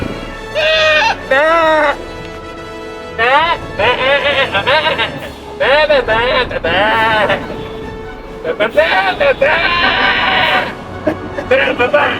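A goat bleats repeatedly and loudly nearby during a parish tour in Port Antonio, Portland, Jamaica, its wavering, quavering cries arriving in a string of bursts with brief gaps between them.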